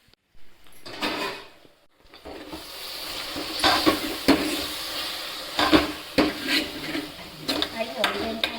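A spoon scrapes and stirs a tomato curry sizzling in a pan, with repeated clattering strokes against the metal over a steady frying hiss, close by and moderately loud.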